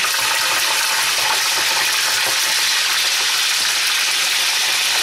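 Salted tilapia fries in hot oil in a pan, giving a loud, dense, continuous sizzle and crackle, heard close with no talking.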